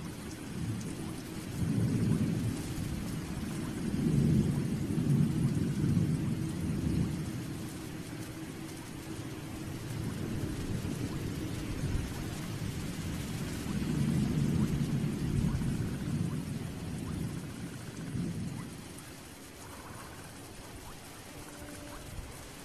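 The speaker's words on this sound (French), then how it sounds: "Au matin, il pleut toujours." Steady rain falls at dawn while low thunder rumbles roll in repeated waves, swelling and fading over the downpour in an open outdoor setting, with no voices.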